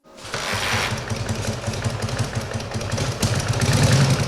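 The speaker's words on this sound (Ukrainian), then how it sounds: "А ще у цій майстерні виготовляють унікальні мотоцикли F-16." A homemade F-16 motorcycle built from old MT, K-750 and Ural motorcycles runs in a workshop, its engine producing a steady, loud, rough low rumble that throbs rhythmically and swells slightly toward the end.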